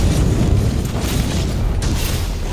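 A loud, rumbling explosion in Monster Hunter World during a Fatalis fight, with a deep sustained boom and debris roar filling the whole stretch, close and powerful with no talk over it.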